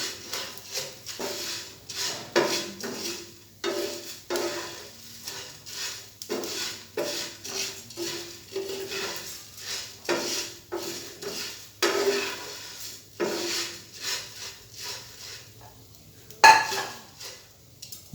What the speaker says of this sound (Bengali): একটু নাড়াচাড়া করে তারপরে নামিয়ে নেব।